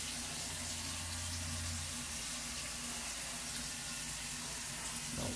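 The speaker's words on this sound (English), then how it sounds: "So, we're just going to run that water for a little bit." Water runs steadily from a newly installed faucet into an Ikea vanity sink and drain, a soft continuous hiss with a low hum underneath and no talking.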